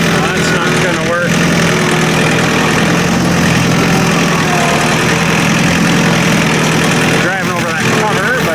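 Vehicle engine running steadily while a trailer is moved at a log-milling yard, loud and continuous with a constant drone that shifts slightly near the start and end.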